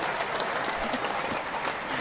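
Applause sound effect from a talk show about becoming a published author, a dense even burst of clapping that holds at steady volume from start to finish.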